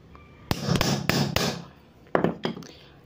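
A new CVT bearing on a Honda Beat FI scooter is hammered into place with a series of sharp, loud metallic strikes, three in quick succession, then a pause and a few more blows.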